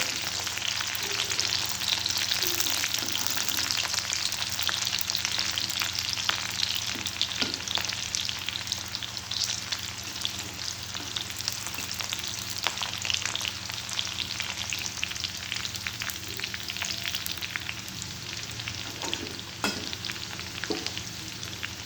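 Chopped onion fries in a hot pan with salt for a tomato chutney, a steady close sizzle and crackle with occasional stirring scrapes, alone with no voices.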